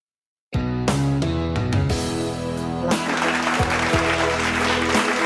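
A clapping sound effect triggered on a karaoke soundcard starts abruptly after a short silence, loud and full, layered over bright musical tones and sustained notes.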